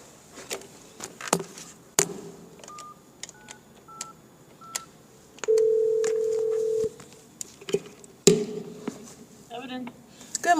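A telephone dials a call: short button tones, a long steady ring tone, then more key presses, close and clear, mixed with clicks and handling noises, and speech faintly present.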